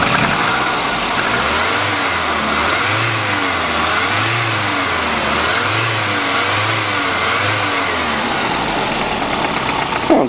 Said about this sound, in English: Engine doesn't sound so bad after a lot of abuse.